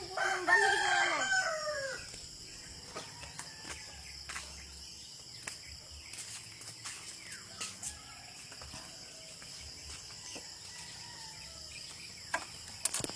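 A rooster crows loudly once near the start, followed by scattered soft chicken clucks and a steady background of chirping insects outdoors.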